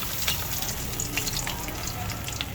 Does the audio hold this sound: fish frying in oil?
yes